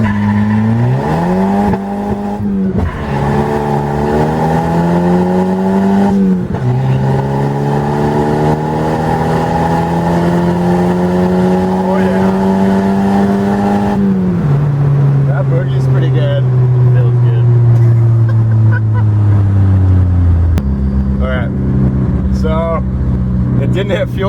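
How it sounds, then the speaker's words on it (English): Turbocharged wagon with an open exhaust launching hard in first gear, its engine note climbing loudly through long revving pulls with sharp shifts and drops in pitch while a voice talks over it. "I'm gonna do another first gear launch."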